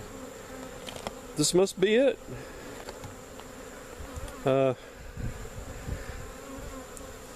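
Honeybees from a tiny swarm pour into a hive box, their buzzing swelling in a few loud close bursts over a steady outdoor hum, while someone says a few words.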